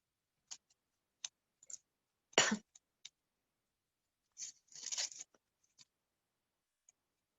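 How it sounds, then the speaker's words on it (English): Scissors snip curved shapes through craft paper held over a rough sheet, giving a sparse run of separate close, crisp cuts with quiet gaps between them and no talking. "I'll start cutting the curves."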